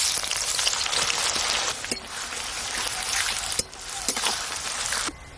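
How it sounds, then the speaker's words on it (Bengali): Sliced onions for beresta fry in hot white oil, giving a loud, steady sizzle close by, with a few brief clinks and stirring bumps breaking the hiss. "বেরেস্তা ভেজে নেব।"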